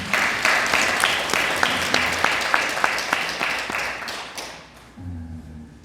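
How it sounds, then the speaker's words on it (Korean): Church congregation applauding a children's Hallelujah choir at an evening worship service: steady, dense clapping with a few sharper individual claps, fading out near the end as a low voice begins speaking. "아이들 격리 박수 한번 하겠습니다."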